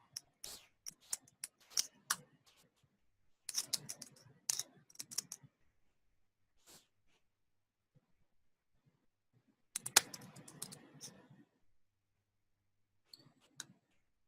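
Soft keystrokes tap out a password on a computer keyboard in short irregular clusters separated by pauses, faint and close in a quiet room, with a few isolated clicks.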